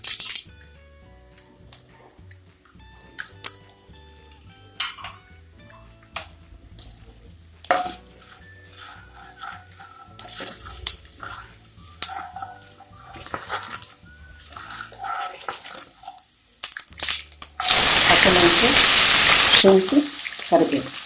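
Chana dal and urad dal fry in about three tablespoons of hot oil with mustard and cumin seeds for oggarane avalakki, giving scattered crackles and spatula clinks, then a loud sustained hiss near the end.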